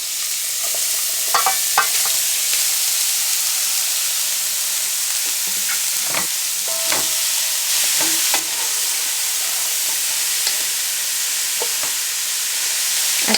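Cauliflower frying in coconut oil, a steady loud sizzle with crackling filling the whole stretch, broken by occasional scraping stirs of a utensil against the pan.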